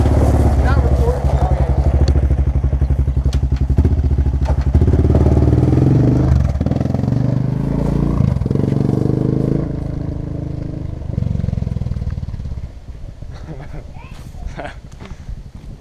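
Honda Rancher ATV fitted with a Big Gun Evo U exhaust, a loud close engine roar that revs hard and throaty, then falls back to a lower idle, with people talking over it.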